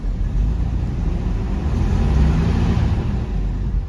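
A Jeep Cherokee XJ rolling along in gear with a steady, loud engine drone and road rumble that holds fairly even throughout, close up and without speech.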